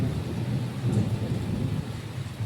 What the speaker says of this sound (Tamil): அந்த ஷெட்டில் மழை விழுகிறது எப்படி கேட்குதுன்னு பாருங்கள்